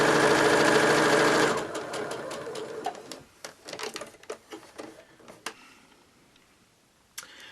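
A sewing machine stitching quilt fabric runs in a fast, loud whirring burst, then slows into uneven ticking and clicking stitches that fade to near quiet.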